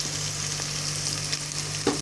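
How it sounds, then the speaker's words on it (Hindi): Chicken and liver pieces fry in a pan with a steady, close sizzling hiss, and a brief stirring clatter comes near the end. "1 कलेजी हमने ले ली थी, थोड़ा सा चिकन है, इसको अच्छे से भुनेंगे।"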